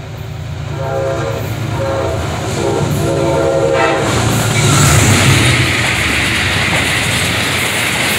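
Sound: northbound Amtrak train passing station, P32AC-DM locomotive #706 leading

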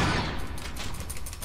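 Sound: gunshots fired at a Hunter in Resident Evil Remake video game

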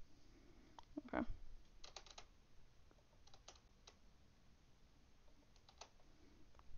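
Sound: typing on a computer keyboard

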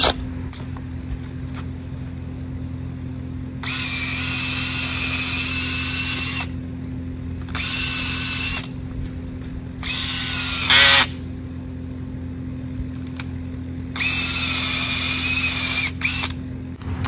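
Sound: cordless drill spinning an auger

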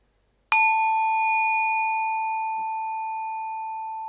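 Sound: Tibetan bell struck once

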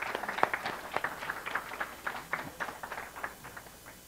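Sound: audience applause

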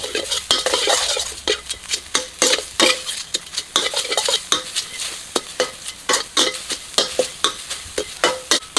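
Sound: pounded ingredients dry-roasting in a pan without oil

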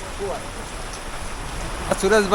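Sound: heavy rain at Saputara hill station

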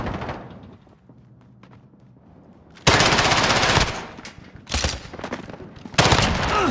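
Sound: incoming cruise missile strike in Call of Duty Warzone video game

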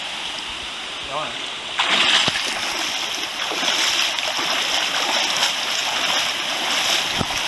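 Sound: small waterfall on a creek

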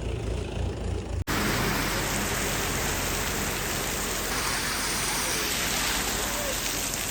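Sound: heavy rain falling

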